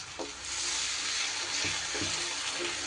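Ground masala paste for katla fish curry sizzles loudly and steadily in a hot pan, with a few soft stirring knocks underneath the continuous frying hiss. There is no talking.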